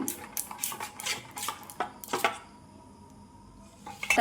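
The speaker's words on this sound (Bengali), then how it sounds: "ব্যাটারটা আমার এরকম হয়েছে এটা একটু ভালো করে ফেটিয়ে নিলাম" Batter for a curry leaf recipe is beaten in a bowl, giving a run of quick clinking utensil strokes against the dish that pause midway and resume briefly at the end, close and fairly quiet.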